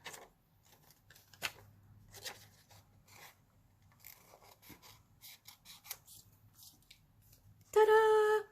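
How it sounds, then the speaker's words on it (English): Small scissors snip and rustle through thin book-page paper in a series of quiet, close cuts and scrapes, ending with a brief loud tonal burst. "I'm going to use little scissors"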